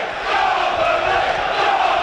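Large football crowd at a Burnley v Blackburn EFL Championship match swells into loud, sustained roaring and cheering. The noise is distant and diffuse and carries no clear speech.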